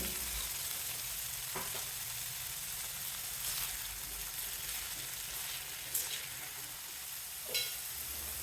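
Pumpkin pieces fry in a pan as salt is mixed in, giving a steady, fairly quiet sizzle with a couple of faint scraping stirs near the end.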